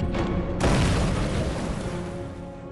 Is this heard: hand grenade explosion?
yes